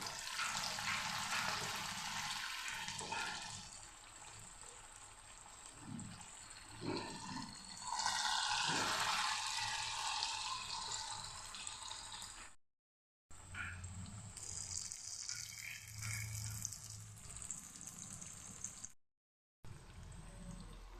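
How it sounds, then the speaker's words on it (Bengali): Pakoras made with spinach sizzle in hot oil in a wok, a steady broadband hiss and crackle running throughout with brief gaps, close and fairly loud with no talk over it. "এখন আমি পকোড়াগুলি ভেজে নিচ্ছি।"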